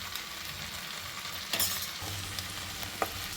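Chennangi leaf chutney mixture fries in oil left over from earlier frying, a continuous close sizzle with a few stirring scrapes and a sharp tap near the end.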